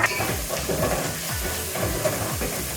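Whole cinnamon, cardamom and black pepper hitting frying onions in a hot pan, a steady loud sizzle and hiss with faint stirring scrapes, no voices.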